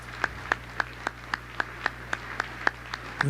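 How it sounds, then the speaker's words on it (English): One person clapping at a government briefing, a sign language interpreter among them, with crisp, regularly spaced claps ringing out over a low room hum. "Why is the guy at the microphone clapping loudest?"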